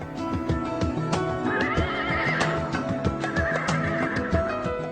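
Horses whinny repeatedly during horse riding training, with clip-clopping hooves and a busy, layered background, fairly loud and without talk.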